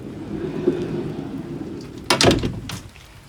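Rain falling around a 2019 Mercedes Sprinter 4x4 adventure van, a steady wash of patter punctuated near the end by a few loud, close thumps and bumps.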